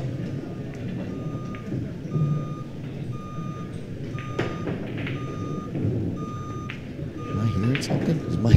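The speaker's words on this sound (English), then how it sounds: "What was that beeping? The microwave's done." A microwave oven beeps in a repeated string of short, evenly spaced electronic tones beneath ongoing talk and background chatter.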